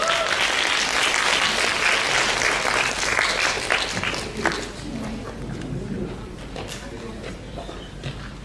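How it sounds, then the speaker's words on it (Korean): Dense audience applause fills a hall at a world Korean-language speech contest's team event, steady and full for several seconds before thinning and fading toward the end. "여러분 큰 박수 부탁드립니다."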